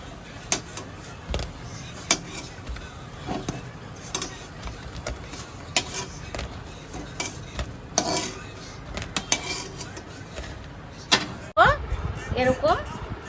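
A pan lid lifts and litti, baked wheat dough balls, are taken off the pan, giving close, intermittent metallic clinks, clanks and scrapes over a low background hum.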